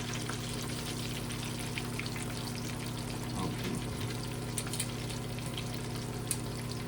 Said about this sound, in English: while those pork chops are frying